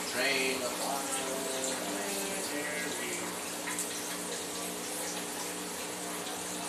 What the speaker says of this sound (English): Make sure to wash your fruit before you cut them.